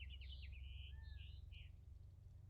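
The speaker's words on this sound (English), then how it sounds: "Just letting the birds speak to you for a moment here" Birds chirp and trill in quick bright phrases, with one long sliding whistle, over a steady low hum; no voices.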